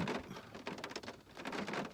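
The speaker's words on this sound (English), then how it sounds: "it's raining" Rain patters on a leafy tree in a backyard, a soft, uneven spatter of drops rising and falling over a short stretch, fairly faint and without talk.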